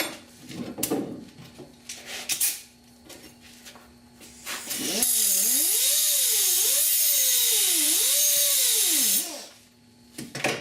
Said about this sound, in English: I guess I can grind it down a little.